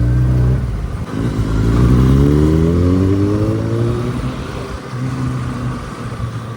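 A Kawasaki Ninja motorcycle passing on a road, its engine note rising as it revs and climbs through the gears, loud and close, then easing back down.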